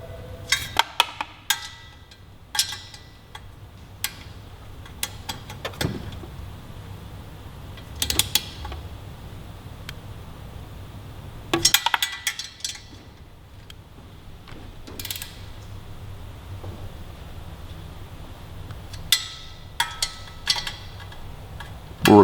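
A wrench torques the exhaust flange fasteners on a 2018-2023 Kawasaki Ninja 400 fitted with a Hindle Evo megaphone full exhaust. Short ratcheting clicks and metallic taps come in scattered bursts over a quiet garage background, with no talking.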